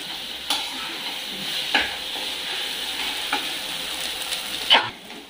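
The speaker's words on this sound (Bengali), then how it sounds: "এবারে ভালো করে কষিয়ে নেবো," Taro stalks with mustard and chili paste stir-fried dry in a pan give a steady low sizzle, with occasional louder scrapes of the spatula against the pan.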